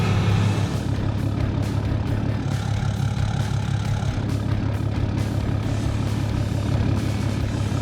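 A 2022 Ram 2500 pickup truck drives with a steady, deep engine drone and rumble, constant and fairly loud throughout with no voices over it.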